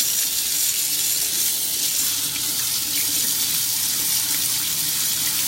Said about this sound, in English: So, I'm going to rinse everything really well.